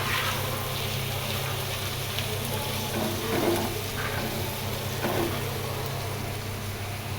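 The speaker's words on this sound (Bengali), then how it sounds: "আমি একটু করলা ভাজিতে তেল দিয়েই ভাজি করি" Bitter gourd fries in oil in a frying pan, giving a steady, close hiss of sizzling oil with a few louder crackles and stirring bursts throughout.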